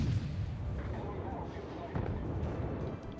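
Warship guns firing in World of Warships naval combat: dull booming rounds with rumbling low-end tails, a sharper report near the middle, set against a continuous battle din, fairly quiet overall.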